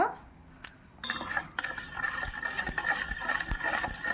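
Lemon juice being stirred with salt and sugar, a spoon clinking and scraping against the container in a steady, irregular rhythm of close, sharp taps with no talking.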